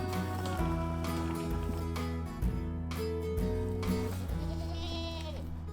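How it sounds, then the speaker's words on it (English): Goats bleat repeatedly while grazing on invasive understory in a forest, their loud, wavering calls overlapping and following one another closely, with several animals calling near at hand. "the goats are coming in to eat the invasive understory"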